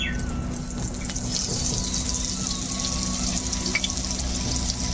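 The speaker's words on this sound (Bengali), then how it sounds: "তো এদিকে আমার তেল গরম হয়ে গিয়েছে। এবার আমি ফোড়নের জন্য দিয়ে দেব পাঁচফোড়ন।" Panch phoron spices and ginger fry in hot oil, giving a steady, dense crackling sizzle close to the pan that holds evenly for several seconds with no voices.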